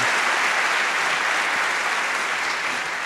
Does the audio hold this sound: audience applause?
yes